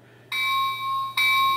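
Bell of a model SD40 locomotive, a bright electronic ding repeating twice in quick succession, close and clear with a faint low hum underneath and no talk.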